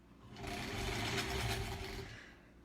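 A sewing machine stitches quilt pieces for a granny squares quilt in one steady, continuous whir that swells slightly mid-run and then eases off, close and fairly loud with no talking.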